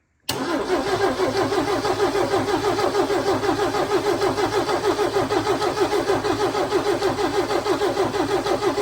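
Chevy K10 Squarebody truck engine cranking over with a freshly adjusted valvetrain, a loud, close, steady rhythmic starter churn running continuously without catching.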